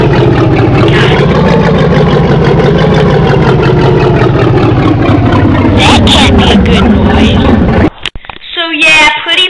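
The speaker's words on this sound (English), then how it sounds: "the car was just making that noises for some reason" A work car's engine running loud and close with a steady idling drone and a pulsing rhythm, then cutting out near the end amid clunks and a voice.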